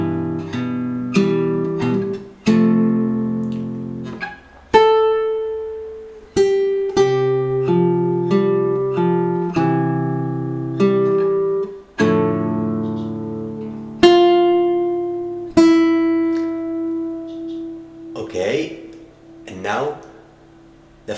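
A solo fingerstyle acoustic guitar plucks a piece from Kung Fu Panda: slow, close, clear single notes and bass tones with pauses and decaying sustains, played alone for about twenty seconds.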